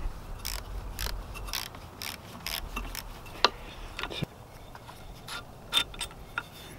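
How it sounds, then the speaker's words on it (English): A wrench loosens corroded bolts above the propeller on an Evinrude 7.5 outboard motor lower unit, making a close series of sharp metallic clicks and ticks at an uneven rhythm, with a few louder snaps. "we got two bolts here above the propeller, so let's go ahead and get those out."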